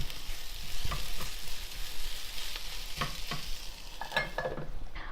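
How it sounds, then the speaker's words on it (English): Chopped tomatoes being stirred and mixed in a bowl for guacamole: soft, continuous wet scraping and squelching close by, with a few sharper clicks of the utensil against the bowl near the end. "we will add the tomatoes in this bowl and mix it"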